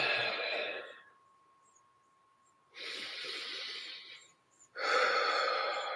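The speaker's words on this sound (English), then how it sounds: "Let's really breathe in." Deep breaths drawn in through the nose, with two long, loud inhalations a couple of seconds apart following the tail of an earlier one, each lasting about two seconds with quiet gaps between.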